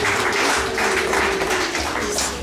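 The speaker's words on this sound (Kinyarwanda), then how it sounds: "mwagakomye amashyi n'impundu" Dense crowd applause, steady throughout, with a high sustained ululating tone running beneath the clapping.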